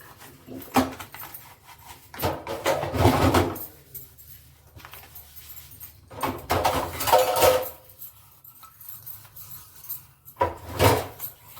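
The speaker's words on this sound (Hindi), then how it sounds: "और मैं ना ऐसे धोती हूँ बर्तन" Dishes, pots, bottles, a tiffin and milk jugs are washed by hand in a home kitchen, producing intermittent bursts of clattering, clinking and running water separated by quieter pauses.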